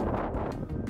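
Wind buffets a microphone outdoors after a jet landing, a dense, rumbling gusty roar that swells and dips over a second.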